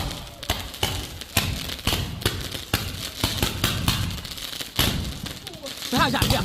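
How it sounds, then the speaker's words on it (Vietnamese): Diwali firecrackers burst in rapid succession, a dense string of sharp, loud bangs with a few heavier thumps, while excited voices call out over the barrage. "Cái này nổ to lắm."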